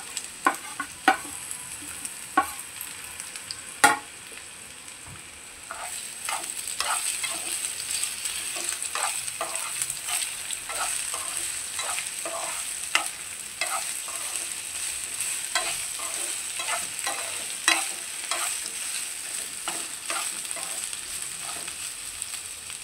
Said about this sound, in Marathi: आता आपण त्याच्यामध्ये बटाटा टाकून घ्यायचा आहे,